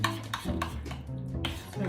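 Salad ingredients tossed and stirred in a bowl after a squeeze of lemon juice, giving soft scraping and clinking of a utensil against the bowl, steady and close over about two seconds.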